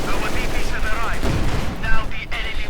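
Machine gun fire in Company of Heroes 2 from an MG42 crew, with a steady crackle of gunfire and battle noise throughout. A voice talks over the shooting.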